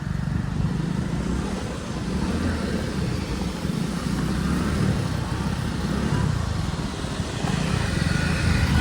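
A motorcycle that is running low on petrol runs steadily close by, its engine note droning at a constant level with only slight wavering and no pauses.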